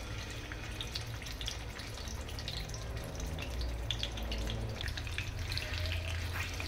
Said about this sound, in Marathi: आता तेल गरम झालेलं आहे, मी पनीर त्याच्यामध्ये टाकते।